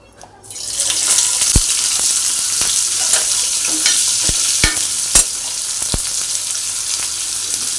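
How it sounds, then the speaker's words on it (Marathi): Onion roasting on a hot tawa for a Malvani chicken rassa masala gives a steady close sizzle and crackle, broken by a few sharp scraping clicks, with no talk. "तर आपण सुरुवातीला भाजूया कांदा"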